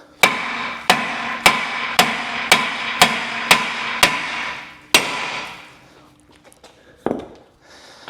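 A hammer taps a corroded brake disc off the hub of a Renault Trafic van, about eight sharp, evenly spaced metallic strikes that ring briefly, then a pause and a final clunk as the disc comes free.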